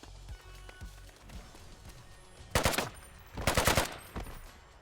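Two short, loud bursts of AK rifle fire in the shooter Metro 2033 Redux, each a fast rattle of shots, preceded by soft running footsteps and quiet ambience.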